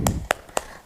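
Three sharp hand claps spaced evenly apart, each crisp and close, with a soft low murmur before the first.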